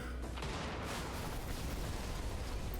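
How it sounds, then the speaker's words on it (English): Explosion in the Brigador: Up-Armored Edition video game, a loud dense blast with a sharp attack followed by sustained roaring rumble and debris crackle filling the whole clip, close and without speech. "nice explosion."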